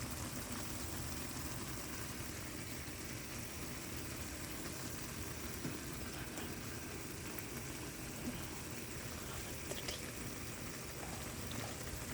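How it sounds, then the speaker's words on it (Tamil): Korean instant noodles boiling hard in a pot, a steady, even rolling bubble and hiss that holds unchanged throughout at low level, with no voices. "இந்த நூடுல்ஸ் ஃபுல் ஃப்ளோவில் பாயில் ஆகிட்டுருக்கு"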